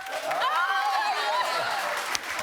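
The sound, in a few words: studio audience applause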